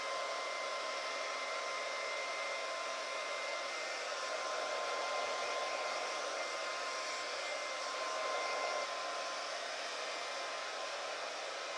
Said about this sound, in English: Okay, so I finished blow drying my hair.